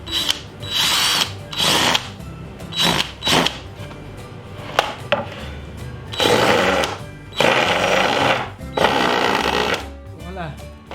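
A Parkside PABS 20-Li G8 cordless drill drives a 15 mm screw in several loud, close bursts of whirring separated by short pauses, with brief stops and restarts.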